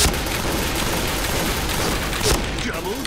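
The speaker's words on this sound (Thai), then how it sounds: "ยิงจนกระสุนจะหมดแล้ววะไม่ได้ยิงโดนเข่าแล้วยิงลมยิงกระแพงเลยตลอด" Rapid gunfire in a first-person shooter game, dense bursts of shots running continuously and loud throughout, with a sharper crack near the end and brief talk mixed in.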